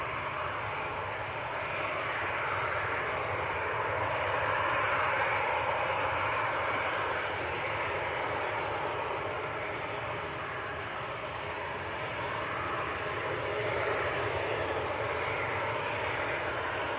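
An airliner departs Manchester Airport bound for Rome, its engines a steady broad roar that swells slightly and then holds, heard from a distance with no talking over it.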